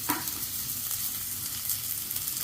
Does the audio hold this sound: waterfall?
no